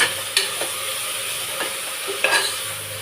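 Amaranth leaves with salt and turmeric stirred in a pan, giving a soft steady sizzle with a few light scraping strokes of the spoon, close and alone without talk.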